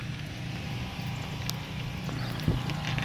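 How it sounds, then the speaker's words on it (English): Generator running after a tornado on North Main Street in Dayton, Ohio, a low steady engine drone in the distance under wind and outdoor noise, with a few faint knocks. "Generator."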